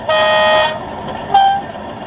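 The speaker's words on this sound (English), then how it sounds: "let's give a quick go of the horns" A sound-fitted OO gauge Accurascale Class 37 model diesel locomotive horn sounds two short tones, a longer blast then a brief second toot, over a low mechanical hum.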